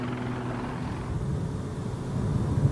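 A helicopter ferrying specialists to remote islands gives a steady low rotor and engine drone with no voices, holding even and growing slightly louder toward the end.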